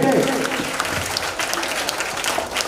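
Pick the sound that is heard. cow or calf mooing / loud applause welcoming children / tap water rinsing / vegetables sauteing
loud applause welcoming children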